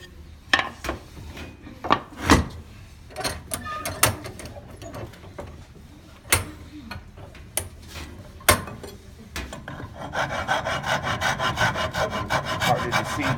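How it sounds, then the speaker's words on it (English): A rough file rasps back and forth along a wooden edge, with irregular scraping strokes at first, then a faster, denser run of close filing strokes toward the end, with no talking. "I'm filing down to the line, close to the line."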